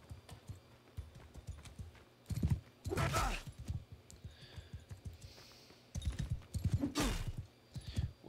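Horse hooves clip-clop in a video game, a run of quick rhythmic clicks with louder bursts and breaks between, fairly close, with no speech over it.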